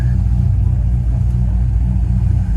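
A Chevrolet El Camino engine idles in winter, a steady low rumbling drone close to the microphone with an even throb and no pauses.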